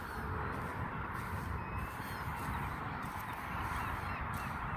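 Geese honk outdoors in a dense, continuous chorus, a steady wall of calls from a large flock with no talking.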